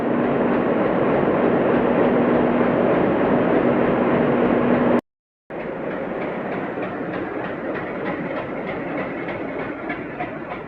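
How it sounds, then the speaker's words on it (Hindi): A train standing near Jogbani, India, while its locomotive runs ahead to the reversal point: a loud, steady rumble and rolling rail noise with a low hum, cut by a brief silent gap midway, then continuing with faint clatter. "तो ये रिवर्सल होने के लिए हमारी लोकोमोटिव आगे चली गई है अपने रिवर्सल पॉइंट पे"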